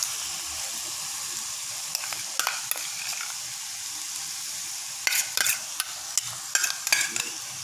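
Ground chili paste with tomato fries in oil for a chicken egg sambal, a steady close sizzle under repeated scraping stirs that cluster toward the end.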